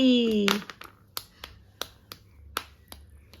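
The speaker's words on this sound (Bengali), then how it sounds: "হাততালি দাও" Hand clapping: about seven sharp, separate claps at an uneven pace, fairly close, following a brief voice at the start.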